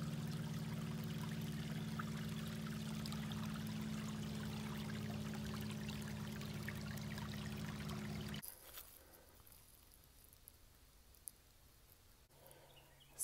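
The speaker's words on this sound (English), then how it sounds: "So here is the spring and what it looks like." Spring water trickling and flowing beside the Appalachian Trail in Maryland, a steady close stream that cuts off partway through, leaving faint outdoor ambience with no talking.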